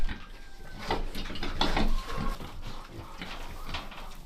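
Pigs grunting and squealing in short bursts close by on a Volyn village farm, amid farmyard clatter and background noise, with no speech.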